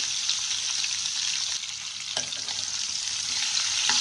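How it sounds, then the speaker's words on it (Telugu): Small dried fish fry in oil over a medium flame, giving a steady, close sizzling hiss with a few sharp crackles and light stirring clicks throughout. "చక్కగా మీడియం ఫ్లేమ్లో పెట్టుకుని దోరగా వేయించుకున్నాం ఇవి"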